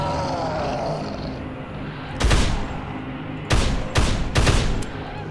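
Four sharp rifle shots from a spiteful rifle in the zombie game Dead Island, one alone and then three in quick succession, loud and close over a steady low game ambience.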